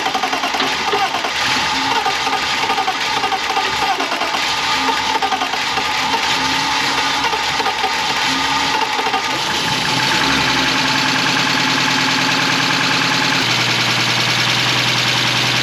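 A turbocharged BMW E36 325i engine runs loud and close at a rough, busy idle with ticking and knocking texture, the tone shifting and steadying partway through, with a voice faintly audible underneath.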